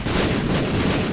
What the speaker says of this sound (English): Big explosions all around,